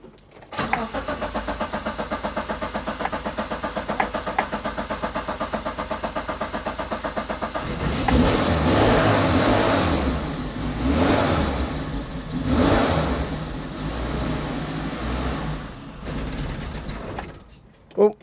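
A 1992 Suzuki Samurai Sport with the choke pulled out cranks with a rapid rhythmic whirring for several seconds, then catches and runs roughly, its engine swelling and dipping in uneven revs, with a voice speaking nearby.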